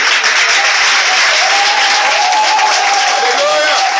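A church congregation applauds loudly and steadily for Jesus, a dense wash of clapping with cheering that carries through the whole clip. A voice rises above the crowd.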